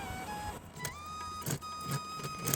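A sewing machine stitches cotton fabric for a small doll-sized dress. Its motor gives a close, humming whine that shifts in pitch, with soft rhythmic knocks from the needle and fabric handling.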